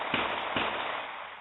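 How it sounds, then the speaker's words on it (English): Two sharp gunshots ring out outdoors, picked up by a security camera at a gated property. The cracks are spaced about half a second apart, sound dull and somewhat distant, and are followed by faint background hiss. "Bunch of gunshots"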